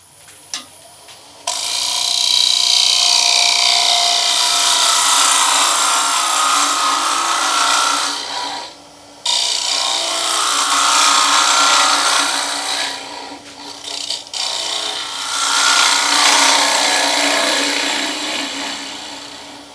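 Wood lathe turning a bowl with an undercut: loud, continuous scraping cuts as the tool rides the spinning wood, interrupted by a few brief pauses where the tool lifts off, with no talking.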